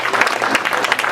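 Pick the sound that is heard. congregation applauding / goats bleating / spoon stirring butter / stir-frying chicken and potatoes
congregation applauding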